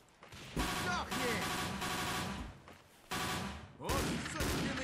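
Bursts of automatic rifle fire in the Vietnam War shooter Vietcong 2, loud sustained volleys in several long stretches with short gaps between them.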